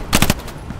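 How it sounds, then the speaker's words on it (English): A short burst of MG42 machine gun fire in the video game Hell Let Loose, three or four rapid, loud shots in quick succession, then a fainter distant report. "Oh, there's an MG42."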